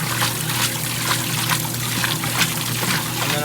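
Maytag washing machine agitating water and clothes, sloshing and splashing in repeated surges over a low motor hum, close by with no talking.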